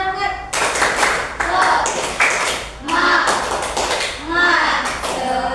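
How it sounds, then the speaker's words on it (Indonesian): Children clap a rhythmic spirit clap in a classroom, several bursts of quick claps in a patterned beat with kids' voices chanting along between them. "Oke, tepuk semangat."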